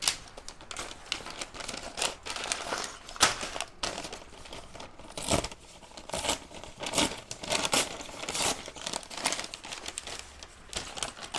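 Crinkly plastic rustling and crackling as a LEGO set bag is opened, continuing throughout with irregular sharp crackles and handling noise, close and fairly loud, no voices.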